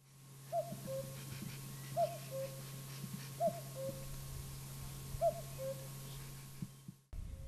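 A bird calls in the spring countryside, a low hooting phrase repeated four times at steady intervals over a constant electrical hum, ending in a sudden click.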